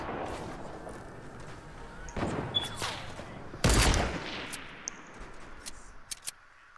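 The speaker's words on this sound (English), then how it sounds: "They're shotgunning each other." Shotgun blasts traded between players in a video game, two heavy broadband bursts a second or so apart, the second louder and nearer, with lighter game noise and scattered clicks around them.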